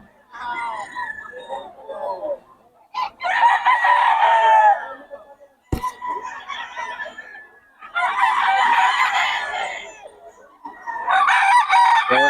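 Several roosters crow in long, loud bursts one after another, with clucking and a sharp knock between calls.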